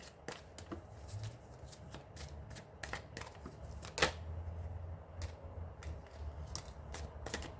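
Tarot cards shuffled by hand in a quiet room, a run of crisp riffling flutters and sharp snaps recurring irregularly, close and fairly soft, with no voices.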